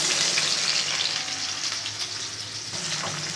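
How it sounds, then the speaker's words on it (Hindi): A medium onion fries in a quarter cup of oil in a pan, giving a bright, steady hiss and crackle that is strongest at first and eases slightly, close and without speech. "तेल लेंगे सबसे पहले 1/4 कप, और इसमें ऐड कर दूंगी मैं एक प्याज दरमियाने साइज़ की।"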